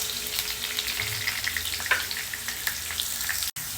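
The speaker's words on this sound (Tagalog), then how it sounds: "Prito lang natin muna yung carrots." Carrots fry in hot oil in a pan, a dense continuous sizzle with crackling pops and light stirring scrapes, close and steady.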